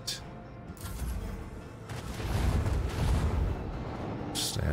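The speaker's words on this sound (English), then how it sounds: "Macro cannons, annihilate them!" Macro cannons and torpedoes firing in a space warfare video game, a continuous rumbling barrage of booms and blasts with sharp bursts layered over it, loud and sustained throughout.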